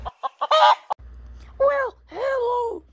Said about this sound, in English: Well, hello, I'm a chicken.